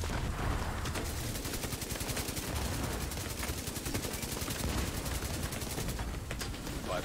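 Sustained gunfire in The Division 2: dense, rapid automatic bursts rattle continuously for the whole stretch, layered shots at steady volume with no pauses, moderately loud and busy.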